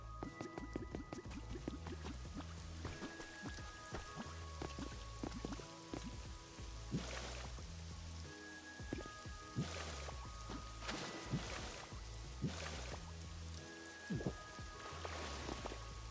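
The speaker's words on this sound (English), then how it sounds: "The sound of the waterfall you made is so relaxing." Gentle waterfall flowing in the video game Pokopia, a steady watery rush and patter layered under soft game music with chiming tones, continuous throughout at moderate level.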